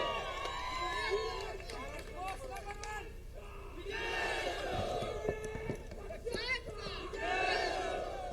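A large crowd at a political rally shouts and cheers in loud, sustained waves, with someone speaking over an amplified system through much of it.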